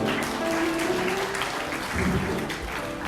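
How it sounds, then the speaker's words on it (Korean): Wedding guests applauding at a Korean wedding ceremony, a continuous wash of clapping in a hall with a faint tonal hum and background murmur underneath, holding steady for the whole stretch. "우리 여러분 다시 한번 뜨거운 박수 한번 부탁드리겠습니다"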